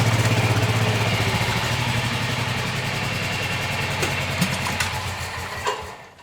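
Steady idling engine hum from a Club Car DS golf cart with an LED light bar fitted, pulling into a shop, loud and close with a brief knock near the end, no voices.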